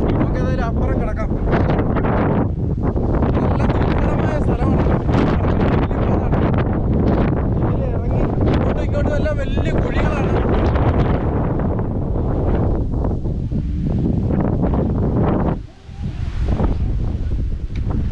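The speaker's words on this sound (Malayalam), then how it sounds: "ഒരു രക്ഷയില്ല, കാറ്റ് എന്നെ കൂടെ പറപ്പിച്ചുകൊണ്ട് പോകുന്നതാണ്" Strong wind roars across an open hilltop beside a highway at Marunnumamala, heavy continuous buffeting against the microphone for the whole stretch, with a person talking through it and one brief lull near the end.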